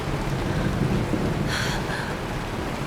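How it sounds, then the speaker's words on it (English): Steady, loud rain pours throughout a scene in the Honkai Star Rail video game, with a brief thunder crack rumbling partway through; no one speaks. "It's raining."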